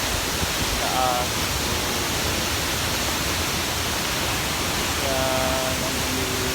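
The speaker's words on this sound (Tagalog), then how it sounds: "Dito ako sa Tiboli Falls." Tiboli Falls at Lake Sebu pours as a steady, dense wash of broadband water noise, constant and fairly close, with brief voices briefly heard under the roar.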